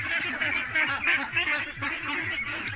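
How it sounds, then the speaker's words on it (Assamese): A flock of ducks on a duck farm quacking and honking continuously in overlapping bursts, loud and close with a busy rhythmic chatter throughout. "তো আপোনালোকক মই হাঁহৰ ফাৰ্মটো দেখুৱালোঁ"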